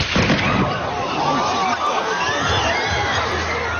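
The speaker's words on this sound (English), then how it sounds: "You can hear the crowd there." A crowd at a shooting reacts in broadcast news audio, a dense, loud wash of agitated voices and commotion with a sharp burst near the start, continuous and chaotic throughout.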